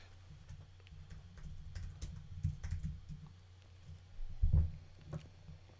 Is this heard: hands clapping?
no